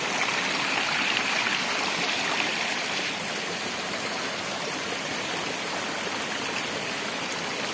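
A stream in the Brazilian sertão rushes over a series of small waterfalls, a steady, full splashing roar of water close by, unbroken throughout.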